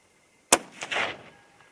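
A single sharp .308 Winchester rifle shot firing a 125-grain Nosler bullet over Varget powder, a loud crack outdoors followed by a brief rolling echo that fades within a second.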